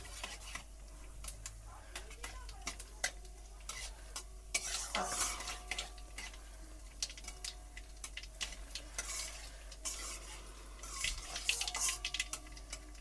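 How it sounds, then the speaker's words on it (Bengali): Nigella seeds and four dried red chillies fry in hot oil while being stirred, with soft crackling sizzle, scattered spatula scrapes and a louder burst of activity midway, all fairly quiet. "কালো কালো জিরে আর চারটে শুকনো লঙ্কা দিয়ে দেবো ফোড়নে দিয়ে আমি ভালো করে নাড়িয়ে নেব"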